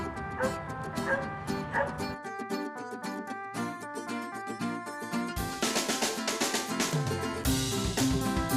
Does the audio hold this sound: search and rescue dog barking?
yes